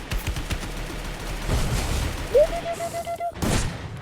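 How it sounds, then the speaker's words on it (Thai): Gunfire in the game Free Fire comes as bursts of rapid shots and booms under game sounds, loud and close, followed by a thin electronic tone and a final burst. "เอ้ยปืนลั่นปืนลั่นปืนลั่น"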